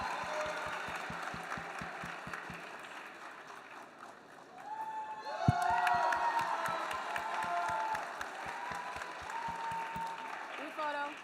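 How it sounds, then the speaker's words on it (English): Applause and cheering from the audience at the UTMUN 2025 closing ceremonies. Rhythmic unison clapping builds into louder cheering and whoops, with voices talking and shouting throughout. "Let's give another round of applause."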